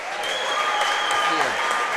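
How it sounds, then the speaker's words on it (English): A crowd at the 4-wall handball world championships applauds steadily, close and even, while people talk over the clapping. "Big round of applause from the crowd"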